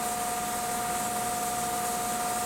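Lacquer hisses from a spray gun onto a purple hard stave drum shell, coating inside and outside in a steady, close, unbroken broadband spray with a faint constant tone beneath.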